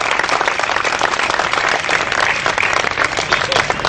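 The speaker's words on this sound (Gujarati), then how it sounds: "દરેક જ્ઞાતિના લોકો જે છે આપણે એમને તાળીઓથી સન્માનિત કરીએ." Sustained applause from a large crowd at a community gathering in Ahmedabad's town hall, honouring people of every caste; dense, even clapping that stays loud throughout.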